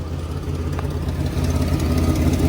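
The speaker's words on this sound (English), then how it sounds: "it does have an exhaust leak" Rough, rumbling engine of a 1994 GMC Sonoma 4x4 pickup with an exhaust leak idling nearby, with a ragged, sputtering low-end rattle pulsing steadily throughout.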